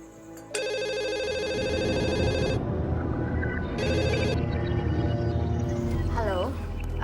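A telephone rings in a loud repeating electronic trill, two bursts separated by a pause, over continuous background noise and music, with a short chirp near the end.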